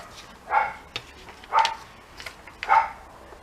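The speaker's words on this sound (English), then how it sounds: "There's a wee dog barking somewhere in" Small dog barking somewhere in the distance, three separate faint barks spaced about a second apart against a quiet outdoor background.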